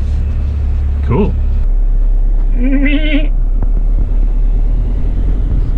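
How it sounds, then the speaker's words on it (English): A black goat gives one short, wavering bleat at mid-distance beside a road, heard over a steady low vehicle rumble, with a brief voice just before it. "Black goat?"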